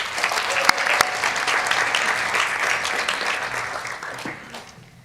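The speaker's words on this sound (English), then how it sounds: "Give her also a round of applause." An audience at the ISFiT student festival presidential election claps in a full burst of applause with a few louder individual claps, gradually fading out over about five seconds.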